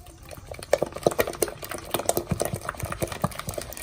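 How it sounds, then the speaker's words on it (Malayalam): Banana fritter batter for pazham pori, made with fermented rice batter and baking soda, being stirred in a bowl: a steady run of soft wet slaps and scrapes with clicking spoon strokes, close and moderately loud, with no talking. "ഇനി നമുക്ക് നന്നായിട്ട് ഇളക്കി കൊടുക്കും"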